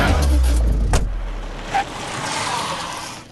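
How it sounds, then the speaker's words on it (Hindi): A car is driven out, its engine rumbling low and heavy at first, then a thud followed by a steady wash of road and motor noise at close range. "चलो गाड़ी निकाल।"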